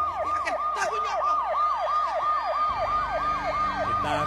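A wailing emergency siren cycles rapidly up and down in steady repeated sweeps, loud and continuous, with low traffic rumble beneath and no talking.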